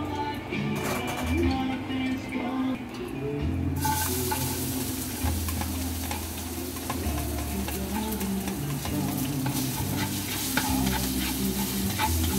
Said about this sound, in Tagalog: Kapag ako nagigisa, inuuna ko yung bawang.